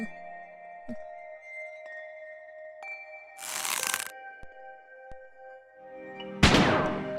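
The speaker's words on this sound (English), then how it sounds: "Did you just shoot somebody?" Gunshots ring out in the video game Silver Creek Falls, two separate loud, sharp blasts a few seconds apart, each ringing briefly over a quiet, sustained tonal background.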